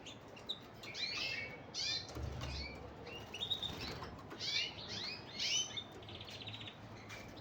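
Bright birdsong with rapid trills and chirps from a caged canary, mixed with wing flutters and soft background clatter.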